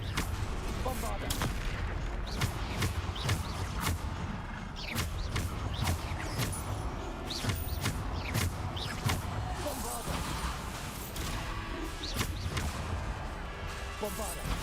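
Repeated explosive spell blasts and impacts in the video game Hogwarts Legacy, sharp bursts at an irregular quick rhythm over a dense battle din, with voices talking throughout.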